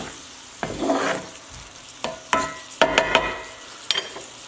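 Sesame chicken and bok choy tossed in a hot pan, several short bursts of sizzling and clattering as the food is flipped, each toss separate with quieter gaps between.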